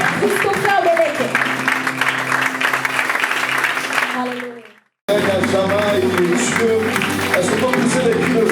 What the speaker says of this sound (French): Donc, sous vos acclamations, est-ce qu'on peut acclamer alors qu'il s'avance?